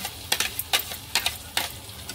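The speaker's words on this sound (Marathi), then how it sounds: "आता या बटरमध्ये हा सगळा मसाला छान असा मिक्स करून घेऊया" A spoon scrapes and stirs spice masala into butter and gravy for homemade butter chicken, making a handful of soft, irregular wet clicks and scrapes with a faint sizzle, close and quiet.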